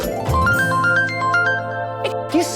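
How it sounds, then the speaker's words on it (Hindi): A short electronic phone ringtone melody plays twice in quick stepped notes, loud and close, followed by brief sliding tones. "किसका फोन बज रहा है?"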